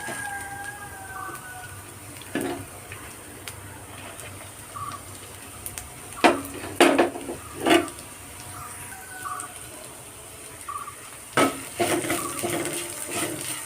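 Sliced onions and carrot are stirred in a pan while rava upma is being made, giving sparse scraping clinks and taps at uneven intervals over a quiet room, with faint birdsong behind.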